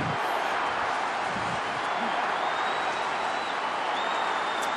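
A dense, roaring football stadium crowd cheers continuously at a St Kilda versus Collingwood AFL match in 2010, a broad sustained wash of noise with faint commentary voices beneath.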